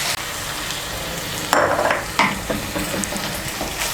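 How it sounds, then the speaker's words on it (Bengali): Water hits a hot pan of frying bitter gourd and potato in a spicy Bengali curry, setting off two sharp sizzling bursts, followed by softer stirring and scraping. "এর মধ্যে দিয়ে দিচ্ছি হাফ কাপ জল"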